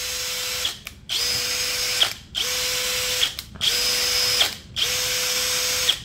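A cordless brushless impact drill runs free in repeated trigger pulls: five steady high motor whines, each about a second long, separated by brief gaps. It is loud and close, with no voices.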